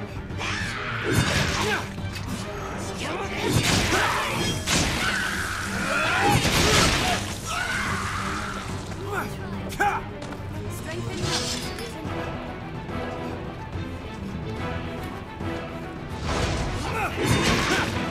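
A ballista turret being smashed apart in Dragon's Dogma on PS3, a string of loud wooden crashes, whacks and thuds amid combat whooshes, with someone talking intermittently over the clatter.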